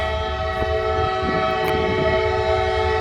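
A train sounding a sustained multi-tone horn as it passes, the chord holding loud and steady over a rumbling background of moving cars, with no voices.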